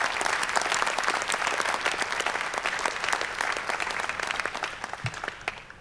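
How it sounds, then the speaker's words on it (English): An audience at a SXSW keynote applauds a military man, with dense, steady clapping that fills the whole stretch and tapers slightly at the end, plus a faint crowd murmur beneath. "I just want to applaud this military man right here for serving for us"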